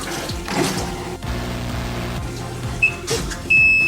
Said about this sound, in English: Let's see what happens when the water starts to drain.